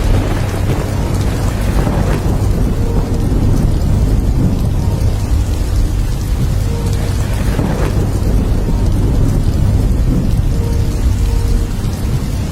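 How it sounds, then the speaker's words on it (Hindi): Heavy rain pours down steadily and loudly, a dense hiss of drops hitting surfaces, with low thunder rumbling underneath throughout. "बारिश इतनी तेज थी कि मानो रुकने का नाम नहीं ले रही थी"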